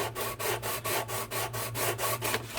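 The base of a guitar bridge for an ES-335 style build is rubbed back and forth on sandpaper with light pressure, a close, even rasping in quick regular strokes, with no talk.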